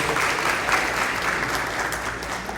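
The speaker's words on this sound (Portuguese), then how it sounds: "Salva de palmas aí para os nossos varões." A church congregation at a worship service bursts into steady, dense applause, a continuous wash of many hands clapping close and loud for the full stretch without any talk over it.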